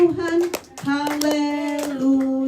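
Hands clap along to a cheerful religious children's song at a first-birthday gathering, sharp claps punctuating singing voices that carry a sustained melody throughout.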